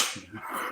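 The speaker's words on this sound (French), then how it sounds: "C'est le chien que vous entendez," A single brief dog bark or yip, faint and short, with nothing else around it.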